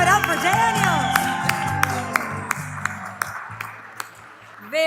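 Applause from an awards ceremony audience rises under music and voices, then thins into scattered claps with sharp ringing pings before fading out near the end.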